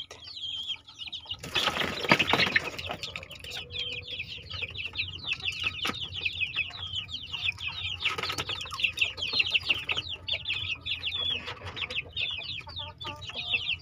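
A flock of one-month-old young chickens clucks and chatters continuously, with a brief burst of wing flapping near the start and steady farmyard noise throughout.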